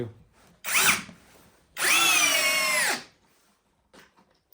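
An Eltos DA-16 BL brushless cordless screwdriver drives a 5x50 mm screw, a short whirring burst followed by a longer, loud motor whine that strains slightly and then stops, with quiet pauses between.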